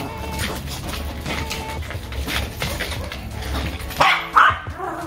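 Dogs at play in a home, with puppies among them, barking and yipping in short bursts over a busy background of shuffling and movement, the sharpest yelps coming near the end.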